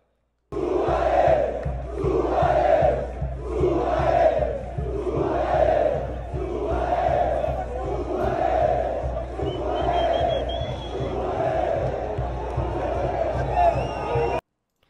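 Grêmio football supporters crowd around Luis Suárez's arriving van at the airport, chanting loudly in a rhythmic, repeating cadence of roughly two-second phrases, a massed chorus close by.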